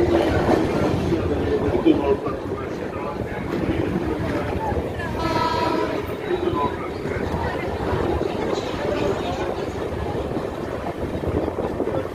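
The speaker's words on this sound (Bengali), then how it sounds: "तीन नंबर प्लेटफॉर्म से थ्रू ट्रेन जाएगी" A through train rolls past a station platform, a steady heavy rumble with clattering wheels and a brief brighter tonal swell midway, while a public-address voice speaks over the din.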